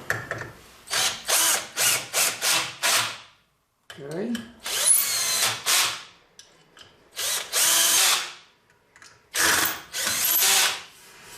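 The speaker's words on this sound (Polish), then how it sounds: "Podczas przekręcania warto ustawić na bardzo mały moment dokręcania, żeby nie przekosić ustawienia wkrętów już w otworze." A Parkside drill driver drives screws into wood in repeated short whirring bursts with ratcheting clicks, close and loud, separated by brief pauses between screws.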